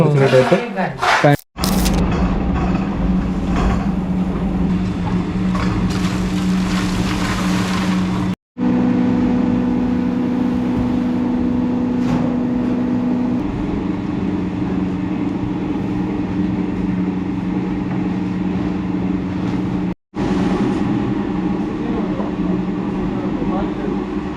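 A mud brick mixing machine with two wheels churns sand and gravel, producing a loud, steady mechanical drone that cuts out briefly a few times.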